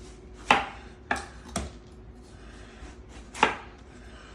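A knife chops down through a watermelon as it is sliced into thick steaks, four sharp cutting thuds landing at an uneven pace on a board, close and fairly loud in an otherwise quiet kitchen.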